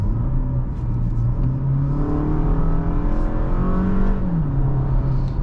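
A 2023 Toyota Camry in sport mode accelerates with a loud, steady engine drone, its pitch climbing smoothly through the gears with a brief dip at a shift.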